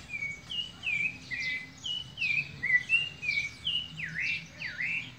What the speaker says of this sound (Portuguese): Esse sabiá é uma piada